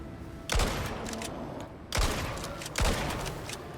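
Three sharp gunshots in the survival game ICARUS, well spaced, each with a booming echo over a constant background hum.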